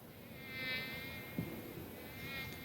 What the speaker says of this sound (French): Voici un son de moustique.